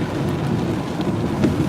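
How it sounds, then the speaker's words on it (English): Steady light rain falls outside, a dense even hiss with a faint low rumble underneath, moderately loud and continuous with no voices. "See, it's still raining a little bit."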